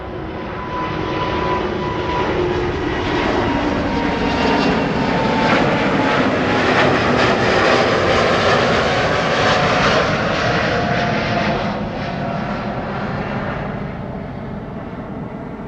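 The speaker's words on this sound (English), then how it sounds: "this is China Southern Airlines" Loud, sustained jet roar from a China Southern Airlines Airbus A350 departing Schiphol's runway 24, building quickly and holding steady before easing slightly near the end, with no talk.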